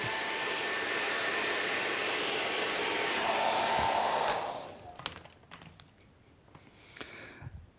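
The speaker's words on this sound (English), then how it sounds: "So I've got a hairdryer here just to speed the process up." A hair dryer drying paint blows with a continuous whooshing whine for about four seconds, then shuts off, leaving faint clicks and handling noises.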